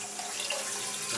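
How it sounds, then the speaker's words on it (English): Water runs steadily from a kitchen faucet while dishes or food are rinsed beneath it, a continuous close splashing hiss with no voices. "Rinse these off."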